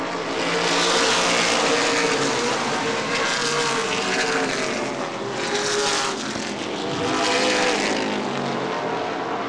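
Late model sportsman race cars roaring around Angola Motorsport Speedway, a loud sustained engine howl that swells and fades as the pack passes, with no audible talk.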